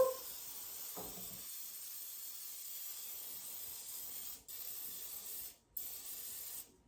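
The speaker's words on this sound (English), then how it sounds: "we're going to spray them each really good on the outside, so that this side can be nice and crispy" A pump sprayer mists oil over baked chicken fingers, giving a soft continuous hiss that stops briefly twice and resumes, with a faint click at the start.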